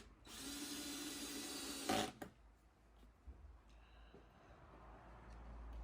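Power drill driving 35mm torque screws into wood boards, a loud sustained whirring burst lasting about two seconds that ends with a sharp knock, then quiet workshop ambience with a few faint taps.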